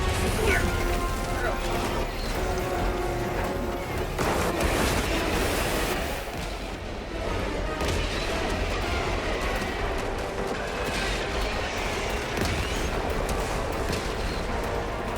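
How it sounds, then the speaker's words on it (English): Orbital barrage strikes in the video game Helldivers 2 pound the battlefield with dense, continuous rumbling blasts and crashing debris that run loud throughout, heavy explosive impacts layered over one another without pause. "Firing orbital barrage."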